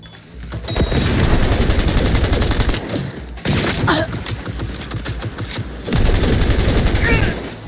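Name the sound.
gun turret firing in the video game Cyberpunk 2077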